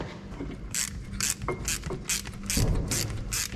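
Ratchet clicks in quick, regular bursts as a size 10 bolt is undone on an Abarth's Bosch brake caliper, close and fairly loud over a low background hum.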